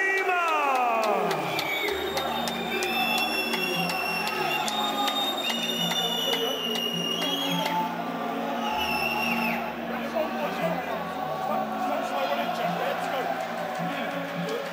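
A vocal crowd cheers and whoops throughout a boxing fight introduction, a steady roar of many voices with whistles and shouts rising and falling, while an announcer talks over the noise.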